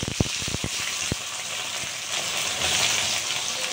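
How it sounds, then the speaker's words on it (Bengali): Sliced onions fry in hot oil to become crisp birista for shahi chicken, opening with a few sharp spits and pops before settling into a steady, close hiss of sizzling. "পেঁয়াজটাকে অর্ধেকটা পেঁয়াজ আমি বেরেস্তা করে নিচ্ছি।"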